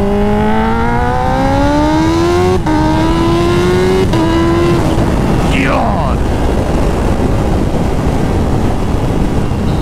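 A Kawasaki Ninja H2 motorcycle engine revs and accelerates hard through several gears on hilly back roads, rising in pitch with sharp shift breaks, loud and close under heavy wind rush.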